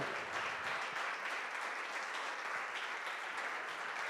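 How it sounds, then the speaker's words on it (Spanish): Congregation clapping steadily and continuously during a church worship service, a dense, sustained wash of applause with no pauses, moderately loud and fairly close. "Sigue aplaudiendo"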